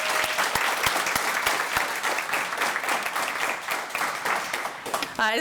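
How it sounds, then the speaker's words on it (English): An audience claps in a full round of applause for a group of student entrepreneurs at a college venture pitch showcase, dense and steady, with a voice starting to speak just as it ends. "Let's give them a preemptive round of applause."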